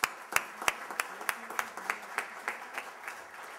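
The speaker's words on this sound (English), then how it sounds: "please give a big round of applause for the 2012 Lifetime Achievement Award winner" Sparse applause at a cybersecurity symposium awards ceremony for a lifetime achievement winner: a small group of distinct hand claps in a loose, slowing rhythm, fairly faint and fading toward the end.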